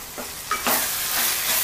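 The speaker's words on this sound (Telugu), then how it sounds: "పుదీనా వేసి బాగా ఫ్రై అవ్వాలి ఆయిల్లో." Curry leaves and mint leaves frying in hot oil for egg pulao, a steady close sizzle with a few brief bursts of spatter and stirring scrapes, no voices.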